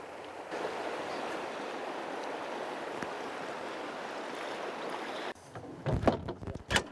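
Continuous rushing water of Montana's Madison River fills most of the clip, then it cuts out and a few close, uneven oar splashes and knocks of a rowboat follow.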